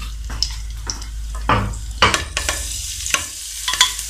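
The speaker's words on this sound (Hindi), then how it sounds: "नेक्स्ट मैं इसके अंदर लहसुन डालूंगी और इसे सौते कर लूँगी" Garlic sautés in about three tablespoons of hot oil for a chicken Manchurian sauce. A soft, continuous sizzle runs under repeated scraping and stirring strokes of a utensil against the pan, up close, with no speech.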